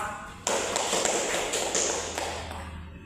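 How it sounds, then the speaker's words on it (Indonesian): Classroom applause breaking out suddenly, a burst of many hands clapping with a few sharper claps standing out, gradually thinning as it goes on. "Kasih aplaus dong"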